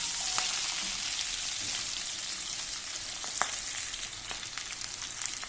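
Capsicum frying on high heat in a pan for hilsa fish curry with coconut milk, a steady soft sizzle like light rain with scattered small crackles throughout, and no voices.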